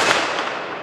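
A Ruger American Ranch rifle chambered in 450 Bushmaster fires outdoors in a single loud, broadband blast whose long rumbling tail fills the whole moment, with no talk over it.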